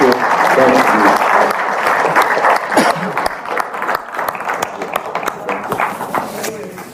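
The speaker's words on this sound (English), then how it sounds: "Je pense qu'on peut encore remercier Billy pour ce beau film. Et encore applaudir." Film-festival audience applauding at the end of an evening screening of the feature Half of a Yellow Sun, sustained dense clapping filling the hall, with scattered voices and cheers mixed in, tapering slightly toward the end.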